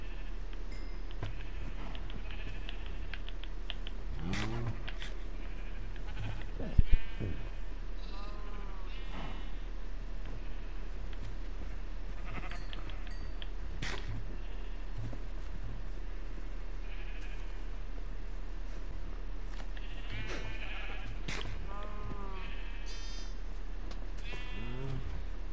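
Minecraft sheep bleat repeatedly in short, wavering calls scattered across the span, some near and some softer, over a steady low game background hum.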